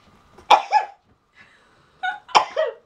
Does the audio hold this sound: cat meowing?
no